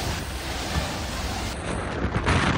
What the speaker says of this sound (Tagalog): matindi ang hagupit ng ulan sa mga bahay, gaya sa Daytona Beach